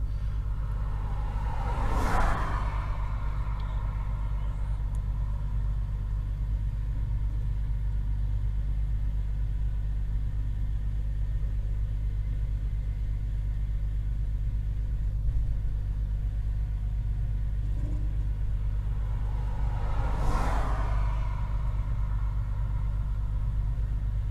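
Stuck truck idling with a low, steady engine rumble while trying to pull itself out, two brief louder swells standing out over the drone.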